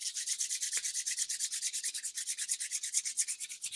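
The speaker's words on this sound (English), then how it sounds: "that's me rubbing my hands together" Two hands rub briskly together up close, making quick rhythmic swishing strokes that repeat evenly for several seconds, alone and without speech.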